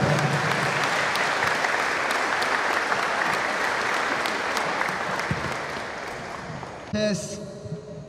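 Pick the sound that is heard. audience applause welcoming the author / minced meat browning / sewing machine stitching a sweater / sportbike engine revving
audience applause welcoming the author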